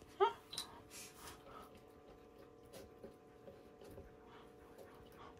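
A puppy at a training school gives a couple of faint, high whimpers near the start, then soft panting and breathing continue quietly.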